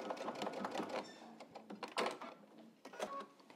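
A sewing machine back-stitches a seam while turning jeans into a skirt, its needle running in short rapid bursts of clatter with brief pauses, close and fairly quiet.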